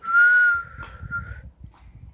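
A person whistles one clear, sustained note that wavers slightly and then fades, followed by soft low rustling and a faint short whistle.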